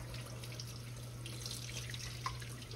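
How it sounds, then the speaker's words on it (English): Water trickles steadily from a tap or jug into buttermilk batter for old-school hoe cakes, a soft continuous pouring sound over a low steady hum, with no talking. "Yeah, I'm going to need a little water I'm going to add to this."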